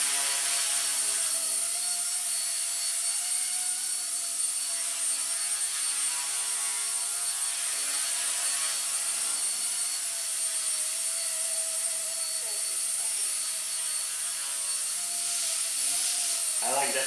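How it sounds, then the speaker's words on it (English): Small Blade mCP X BL2 RC helicopter in flight, a steady high-pitched rotor and motor whine holding even throughout, fairly faint, with no clear talk over it. "Helicopter is flying perfect."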